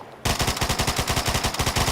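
Rapid automatic fire from an FN P90 in a modded Fallout 4, a steady close burst of closely spaced shots running without a break after a brief quiet opening.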